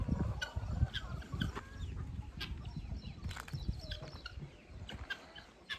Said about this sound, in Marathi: दिवसभर मोकळ्यात कोंबड्या असतात आपल्या